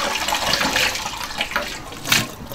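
Fresh duck intestines being rinsed under running water in a kitchen, a steady close splash and trickle with a brief louder gush near the end, no talking.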